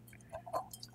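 Black tea trickling through a funnel into honey for mead, a faint close dribble with a few soft drips and gurgles over a quiet background.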